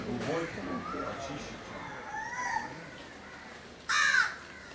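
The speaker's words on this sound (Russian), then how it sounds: "Вороны проснулись." Crows caw on a Maldives island atoll in the morning, a few harsh calls in the background behind soft ambient noise, with one louder caw near the end.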